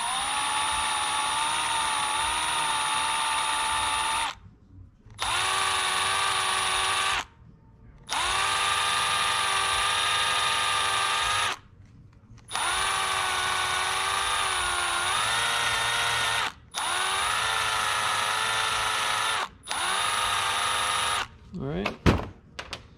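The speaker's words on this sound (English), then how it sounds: "Let me get this fitting cleaned up a little bit on the threads." A power tool cleans the threads of a fuel fitting for a 1953 Plymouth Cranbrook fuel line, whirring in six close, high-pitched bursts separated by short pauses, ending with a few clanks.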